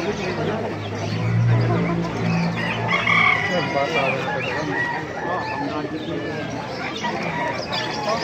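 A white hatch rooster crows near a busy market, its call rising over a steady murmur of voices and background chatter.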